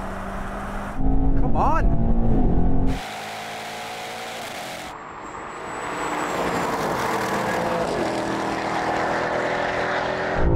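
High-performance cars, a BMW M5 CS, an Audi RS6 GT and an AMG E63 S, roar through a drag race on a damp track, with loud engine roar, shifting revs and a passing whine, as a person briefly speaks.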